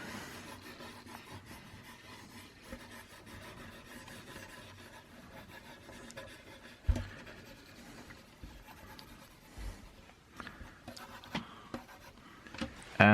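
Pencil drawing and scribbling on paper, soft continuous scratchy strokes with occasional light taps and bumps, close and quiet with no talk.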